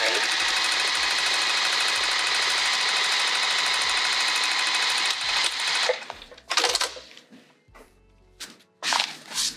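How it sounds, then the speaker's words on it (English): A sewing machine stitching across a seam on a vinyl bag, a loud continuous mechanical whir for about five seconds, then short bursts and clunks as it stops and starts. "we're gonna sew right across here"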